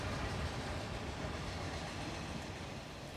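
A train rumbles along the Gazprom railway across the Siberian tundra, a dense, steady roar of rolling wheels and wagons that holds at a constant level throughout, with no voices.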